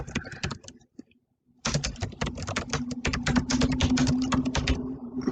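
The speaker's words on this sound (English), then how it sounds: "So here I'm just basically typing my email" Rapid, clattering keystrokes on a computer keyboard pour out steadily and close by as an email reply is typed, after a few scattered taps and a brief pause.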